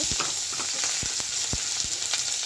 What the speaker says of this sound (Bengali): তো আজকে আমি অন্যরকমভাবে ভাজি করব